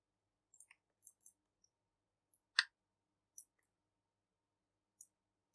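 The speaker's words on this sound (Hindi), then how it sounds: "सिंपली मैं इसे क्लिक करूंगा यहाँ पर" Sparse, dry clicks of a computer mouse during design software work, single and double presses scattered over several seconds with one louder click in the middle, in an otherwise quiet room.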